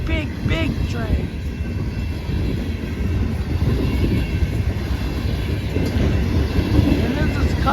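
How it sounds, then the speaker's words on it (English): A very long freight train of about 192 cars, CSX M327, rolls past during a snowstorm with a constant heavy rumble and rhythmic clickety-clack of wheels, loud and close throughout. "Look at that. 192 freight cars once again. Big train."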